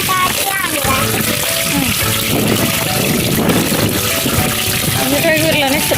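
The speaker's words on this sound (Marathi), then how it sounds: "सायकल धुवायचं काम चालू आहे त्याचं." Water from a hose pipe splashes and patters continuously while a bicycle is washed, with voices talking over the running water.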